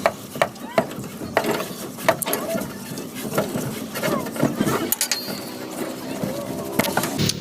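Metal pulley being pulled off a Star metal washing machine during repair, with a series of sharp knocks, clicks and scraping clatter at close range amid a busy, irregular workshop background.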